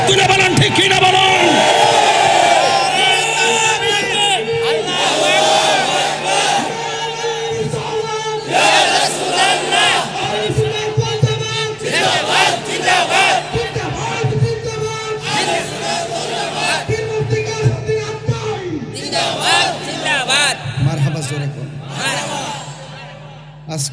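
Large crowd at a religious sermon in Bangladesh roaring a loud collective response, sustained massed shouting and cries close by, swelling and fading in waves with voices throughout.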